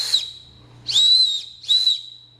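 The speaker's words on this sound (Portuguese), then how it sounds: "Aqui é um apito pequeno que eu tenho numa faca adaptada para sobrevivência aqui que eu fiz." Small survival whistle fitted to a Ka-Bar BK11 knife, three shrill high-pitched blasts, the first short and the next two longer, close and loud with no talking.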